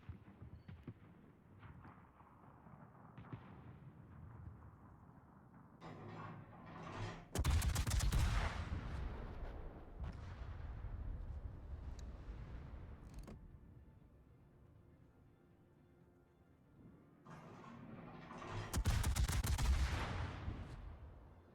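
Heavy naval gunfire from the Ibuki ship in a video game, with big booming salvos near the start and end and rumbling battle noise in between.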